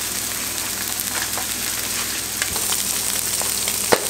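Butter sizzling and frying steadily in a hot pan alongside surf perch fillets, a continuous close crackle with scattered pops and a sharper snap near the end.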